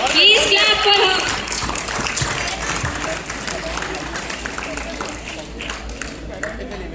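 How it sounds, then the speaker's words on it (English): An audience claps at a school annual games and sports prize distribution ceremony, loudest at the start and then tapering into a thinner, sustained patter, with some crowd murmur around it. "Please clap for her."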